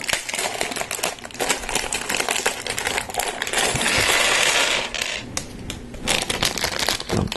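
A small bag of mostly gray Lego parts is tipped out, giving a dense, continuous rattle and clatter of plastic bricks spilling onto a surface for several seconds, loud and close with no talking.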